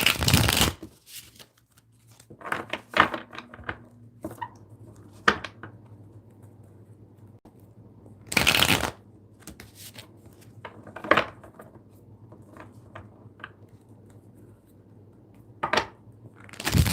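Tarot cards are shuffled in several quick, riffling bursts separated by quiet pauses, close by, with faint handling noises in between.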